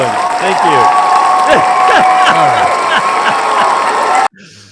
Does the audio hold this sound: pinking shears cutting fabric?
no